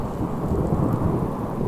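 Rain pours steadily in the survival video game Subsistence while thunder rolls underneath, a continuous low rumbling wash of storm noise with no pauses.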